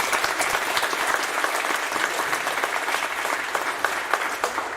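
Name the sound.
audience applause at a middle school award ceremony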